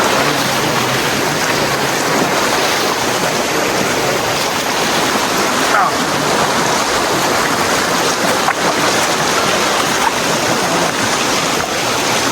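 Steady, loud rush of river water flowing close beside a path, a continuous broadband wash with no breaks and no voices.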